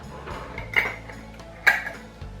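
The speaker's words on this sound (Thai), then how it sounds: "ติกฝาให้หมุนเกลียวให้แน่นแล้วก็คว่ำไว้ค่ะ" A lid is screwed down onto a glass jar of freshly made mulberry jam, giving two bright metallic clicks of the cap against the rim over soft handling noises, close and fairly quiet.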